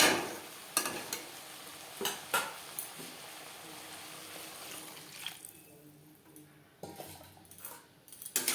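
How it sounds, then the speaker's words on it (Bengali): Spices and bay leaf pieces are stirred in a pan over a low sizzle, with scattered scrapes and clinks of the utensil against the metal, fairly quiet and irregular. "দু তিন মিনিট নাড়াচাড়া করে নেওয়ার পর দিয়ে দেবো জল"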